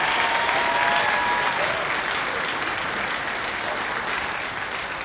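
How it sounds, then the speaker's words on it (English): An audience applauds an 8th grade band at a middle school winter concert, a dense steady wash of clapping filling the hall that holds strong throughout and tapers only slightly at the end. "give all of our 8th grade band a big round of applause"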